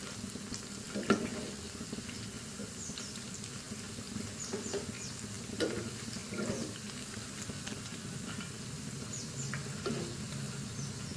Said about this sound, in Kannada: ಇವಾಗ ಇದು 2 ಕಡೆನೂ ಫ್ರೈ ಆಗಿದೆ ನೋಡಿ